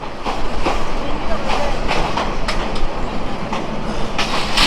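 The Balaka Commuter train from Dhaka to Mymensingh running on rails, a loud continuous rumble with clickety-clack wheel beats, heard from inside the moving train.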